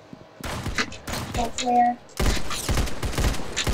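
Rapid bursts of gunfire from the Roblox shooter Arsenal during a tournament match, clustered shots in quick succession mixed with game effects, with a player talking over them.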